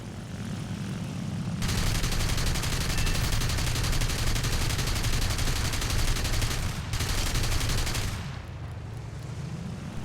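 Machine gun fire hammers a plane's engine in a WWII flight game with an FW 190 A-5/U2, a dense continuous burst over steady aircraft engine drone lasting several seconds before cutting off, leaving the engine hum alone.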